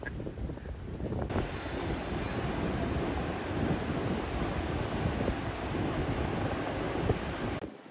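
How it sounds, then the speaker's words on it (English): Big, heavy surf breaking on Kata Noi beach in Phuket during rainy low season, a loud continuous roar of crashing waves mixed with strong wind buffeting the microphone throughout. "The waves are very big for me."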